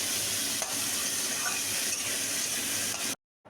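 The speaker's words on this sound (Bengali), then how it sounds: "আমরা একটু খুন্তি দিয়ে পেঁয়াজগুলিকে নেড়ে চেড়ে নেবো নিয়ে এবার পেঁয়াজগুলিকে হালকা করে ভেজে নিতে হবে" Sliced onions fry with a steady sizzle in hot oil as a spatula stirs them, giving soft scraping clinks over continuous hissing, close and even in level, ending abruptly in silence.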